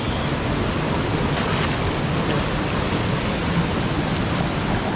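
Water gushes strongly and steadily from a repaired rural water line hose, a loud, close, continuous rushing with no pauses and no voices.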